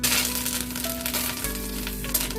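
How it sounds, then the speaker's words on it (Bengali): Curry leaves are tempered in hot oil and ghee already holding cumin and dried red chili for coconut rice, giving a close, steady, crackling sizzle with a few sharper spits. "কারি পাতা ফোড়ন দিলাম।"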